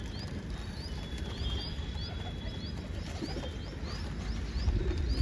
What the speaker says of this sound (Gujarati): જો બે કબૂતર અહીંયા આવે